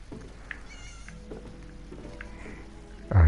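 A cat meows in Elder Scrolls Online, a few drawn-out calls close by over a quiet background, ending in a sudden loud thump.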